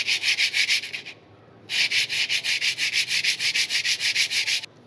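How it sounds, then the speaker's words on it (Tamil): A car brake pad is scraped back and forth against a flat surface in loud, rhythmic strokes, pausing briefly before the steady scrubbing picks up again. "பிரேக் பேடை க்ளீன் பண்ணும்போது ஃப்ளாட்டாக இருக்கிற பிளேஸை வச்சு க்ளீன் பண்ணணும்."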